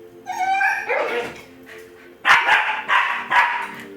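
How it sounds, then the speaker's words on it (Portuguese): A small dog barks indoors, giving a whiny yelp and then a quick series of sharp, loud barks close by, with no talking. "o meu gêmeo, cachorrinho, tá aqui, feliz da vida, correndo e apavorando, querendo quebrar as coisas aqui"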